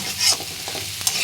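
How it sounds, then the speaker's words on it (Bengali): Bitter gourd (karela) frying in a pan and being stirred, a steady close sizzle with a few scraping stirs of the spatula, no voices. "আমি করলাটা রান্না করতেছি, করলা ভাজি আর কি।"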